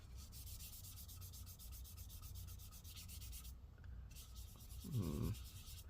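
Repeated rubbing strokes on a 14-inch Apple M3 MacBook Pro screen, a quiet, close, rhythmic scrubbing with a short louder scrape near the end.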